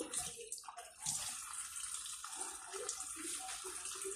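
Running tap water pours over fish being washed, a close, continuous splashing gush with small shifts as the fish is moved under the stream.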